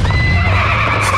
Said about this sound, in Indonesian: sebuah kuda hitam tiba-tiba lewat dan menjatuhkan sebuah tapal kuda